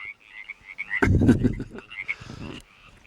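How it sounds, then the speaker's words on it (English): Several frogs croak in bursts at a quiet, relaxing outdoor spot, loud and close, with a dense chorus swelling then fading, while softer higher calls continue in the background. "Except for when, about every 5 minutes, when the frogs start up again."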